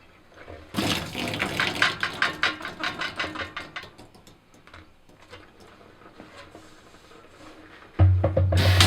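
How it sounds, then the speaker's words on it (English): Water and yeast sediment glug and splash out of a Corny keg into a sink in an uneven, pulsing pour that slowly tapers off, close up, followed by a sudden louder rush at the end. "So I'm going to just dump that crud out into the sink."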